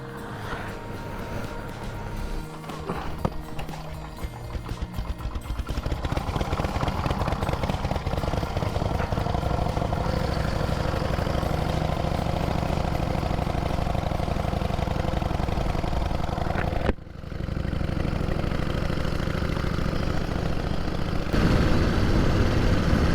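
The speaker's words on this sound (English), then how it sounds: "In the middle of the bush, you've got to push start a motorbike." A push-started motorbike engine sputters into life on an outback bush road and settles into a steady, loud running drone that continues for a long stretch, briefly dipping once.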